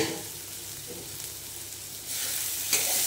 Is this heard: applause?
no